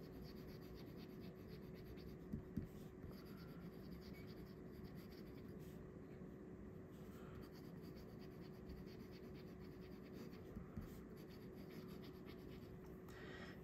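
A fountain pen with a stiff, nail-like nib and blue ink scratches steadily across paper, giving a continuous soft scratchy writing texture with a few faint taps, heard alone at low level.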